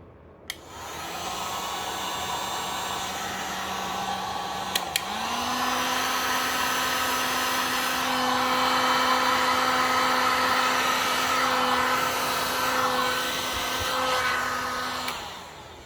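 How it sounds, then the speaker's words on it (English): A heat gun blows a steady stream of hot air over resin in coaster molds, a continuous whooshing hum that runs loud and unbroken for the whole stretch, with a brief click and pitch shift partway through. "Now the heat gun."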